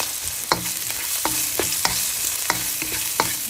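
Vegetables stir-fried with rice in a pan, a steady sizzle broken by sharp, regular clacks of a spatula against the pan, close and loud, with no talking.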